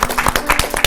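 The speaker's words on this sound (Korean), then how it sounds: "야, 박수." An audience at a church Bible study session bursts into brief applause, a short burst of rapid, moderately loud hand claps.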